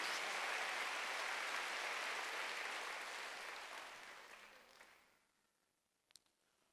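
A church congregation claps during a Sunday worship service, a full, steady round of applause that gradually thins and fades out, leaving a few last scattered claps.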